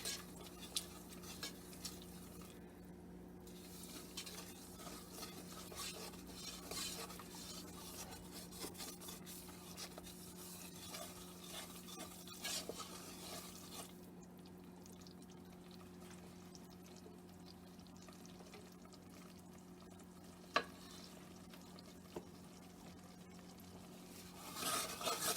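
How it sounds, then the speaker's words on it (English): A homemade air dry clay mixture is stirred in a pot on the stove, a steady quiet scraping and rubbing that runs continuously over a low hum, with one sharp clink near the end. "we're just going to stir it for a few minutes until it seems like it's the consistency of clay or dough"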